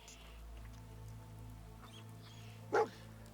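A dog in a rainy outdoor scene of the Sim Settlements 2 video game, a single short bark near the end over steady rain hiss and low ambient hum.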